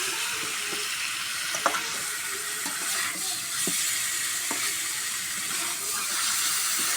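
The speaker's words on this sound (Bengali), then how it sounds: "এখন মাছগুলো আমি দিয়ে দিব" Pangas fish pieces go into hot spiced oil in a pan, a loud, broad, continuous sizzle up close with a few soft clinks and stirring scrapes, without talk.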